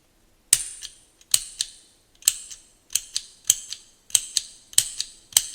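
Flint wheel on a vintage German-made Eveready automatic petrol lighter is struck repeatedly, giving about eight crisp metallic clicks with short ringing tails, spaced roughly evenly and close to the mic in an otherwise quiet room.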